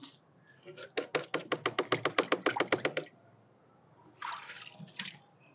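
Water glugs out in rapid rhythmic pulses while an aquarium in a fridge box is drained, close and fairly loud for a couple of seconds, then a softer gush of splashing follows.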